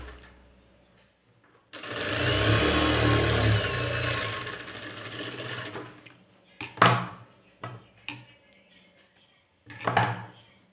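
A sewing machine stitching a folded hem on a blouse runs in a steady, loud mechanical whir for about four seconds, followed by sharp clicks and short handling knocks.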